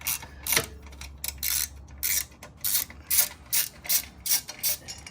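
A ratchet fitted with a 5mm Allen bit socket loosens a small cover on a Yamaha WR250R motorcycle. Close, steady rhythmic clicking strokes repeat about ten times with no talk.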